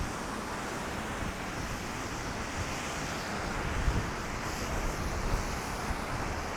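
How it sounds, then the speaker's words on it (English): Wind buffets the microphone during a winter snowfall walk in Toronto's Koreatown and the Annex, a constant loud roaring rush with faint gusting swells and no voices. "walking into the wind and snowfall"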